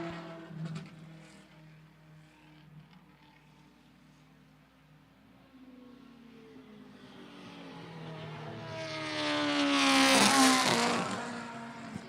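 Vintage race cars battling for position at Lime Rock Park, including a little Mini Cooper. Engines drone faintly at a distance, then swell into a loud, close pass-by near the end before fading.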